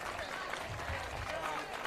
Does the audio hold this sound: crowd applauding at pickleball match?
yes